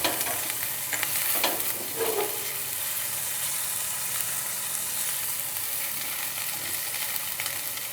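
Green chillies frying and being stirred in a pan while samosas are prepared, a steady close sizzle with scraping stir strokes running throughout, no talking.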